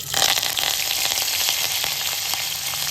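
Broken dried red chillies and curry leaves hit hot oil already popping with mustard seeds for a tamarind pachi pulusu tempering, giving a loud, steady, crackling sizzle throughout with no talk.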